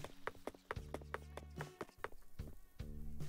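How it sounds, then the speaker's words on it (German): A mosquito buzzes in the video game Animal Crossing, heard as a string of short, sharp ticks and pulses over a steady low electronic drone, fairly quiet and with no speech. "Das ist eine Mücke."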